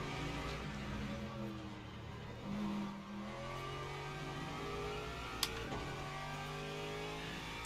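Race car engine on the final lap in Le Mans Ultimate, a sustained mid-pitched engine roar with rising and falling revs as gears shift, close and loud throughout, a brief sharp click near the end.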